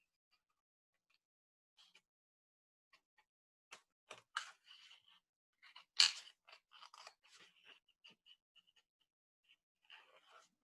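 Scissors cut around a feather shape in watercolor paper, quiet intermittent snips and crisp paper crunches scattered across near-silence, heard up close.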